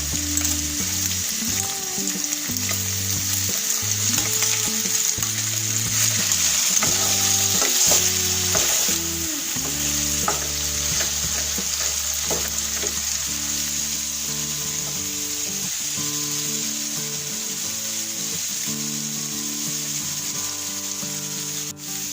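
Ginger garlic paste sizzling and frying in a pan for a chicken starter, with a steady bright crackle and repeated stirring scrapes throughout, close and alone with no talk.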